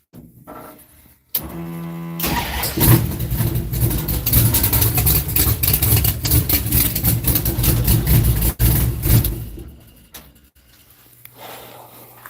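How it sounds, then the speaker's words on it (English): A car engine turns over and runs steadily for most of the stretch, a loud, even mid-low rumble close by that cuts off near the end and leaves quiet. "he wanted an update how the car's running"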